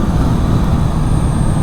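On a small forest road in the Vosges, a car goes by close to a motorcycle, its rumble blending into steady, loud road and wind roar that runs the whole brief moment.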